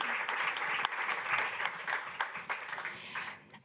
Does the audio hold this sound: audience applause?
yes